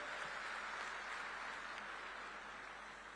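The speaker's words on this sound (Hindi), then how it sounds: "लगना चाहिए जोरदार तालियों से माननीय मुख्यमंत्री जी का स्वागत" An audience at a state-level conference of newly elected village heads welcomes the chief minister with faint, distant clapping, a steady, even patter of applause under a low hum.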